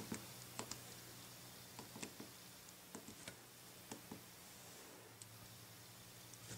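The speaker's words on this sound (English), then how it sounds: "I'm just going to start typing" Typing on the small physical keyboard of an Amazon Kindle 3 e-reader: a quiet, irregular run of light key clicks, some in quick pairs, close to the microphone in a quiet room, with no talking.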